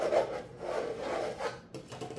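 Craft material being scraped by hand into a Dollar Tree basket, a close, continuous rasping rub lasting a couple of seconds with no talking.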